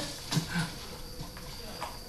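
Horse hooves clip-clopping in the Red Dead Redemption video game, a few soft thuds early on against a low background, with someone talking over it.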